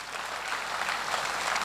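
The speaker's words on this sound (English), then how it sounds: "please, a round of applause for this woman." Applause from a crowd at an evening memorial gathering, dense and even clapping at moderate level that continues without a break throughout.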